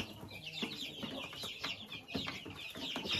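Chicks living on their own at a country dacha cluck and peep busily as they eat from a hopper feeder, a dense, steady chatter of several birds close by.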